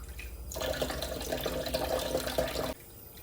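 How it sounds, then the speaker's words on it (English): Running water pouring steadily over rice being washed in a bowl, a continuous splashing flow for about two seconds that stops abruptly, no talk. "let's wash our rice and mix honey in it"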